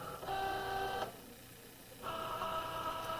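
A Cricut cutting machine drawing in a mat carrying iron-on material, giving a short whirring motor hum that pauses for about a second and then resumes, quiet and close with no talking.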